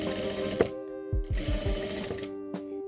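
A sewing machine stitching fabric for a half-moon makeup bag, running in two bursts of rapid mechanical clatter with a pause between, no talk.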